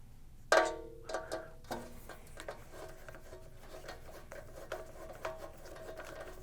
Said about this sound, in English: next you have to remove the 4 screws that are on either side of the housing